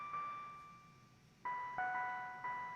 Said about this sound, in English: So it's kind of got this little bell line.